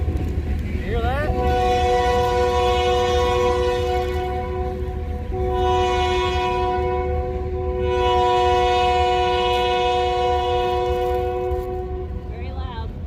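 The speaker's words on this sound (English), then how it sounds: "I guess that train's a lot closer than I thought" A train passes roughly 200 yards from a fishing spot at a conservation club, its horn blaring in long sustained chord blasts for most of the span over a steady loud rumble of rail cars, close and very loud.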